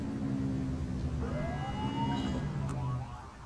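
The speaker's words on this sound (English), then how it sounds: "Get on their tail and flip the siren." In the video game The Precinct, a police car siren starts up with a rising sweep under a steady engine and road rumble, close and moderately loud, with no speech.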